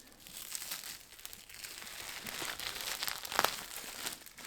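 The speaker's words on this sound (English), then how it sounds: "removing the plastic" Protective plastic film peeled off a new DEPO E-code headlight on a B5 Audi S4, a continuous close crinkling and crackling tear with a sharper crackle burst near the end.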